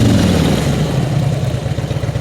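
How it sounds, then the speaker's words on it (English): A 2007 Harley-Davidson Electra Glide Ultra Classic idling close by, its V-twin engine giving a steady, loud, throbbing rumble with an uneven lopey beat and no talking over it. "That's the sound everybody loves when they ride a Harley."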